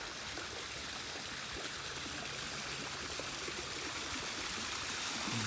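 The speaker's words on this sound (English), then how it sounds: "Be quiet and listen to the waterfall." A backyard patio pond waterfall in Florida flows nearby as a steady, full rush of splashing water with no talking over it.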